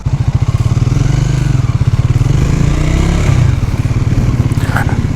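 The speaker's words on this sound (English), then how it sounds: "And that's my fellow rider, my friend, revving his 10R." A Kawasaki 10R motorcycle engine revving nearby, loud steady throbbing pulses that hold through the whole stretch with a slight rise in the middle, no voices.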